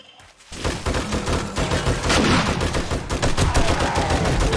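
Gunfire from a zombie-shooting video game: rapid, loud bursts of automatic shots after a brief quiet opening, sustained and dense throughout.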